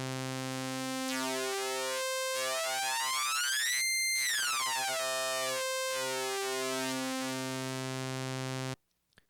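A Hydrasynth synthesizer plays a sustained tone as the oscillator sync depth is swept, its harmonics gliding up and down in sweeping arcs, broken by a few short gaps before it stops abruptly.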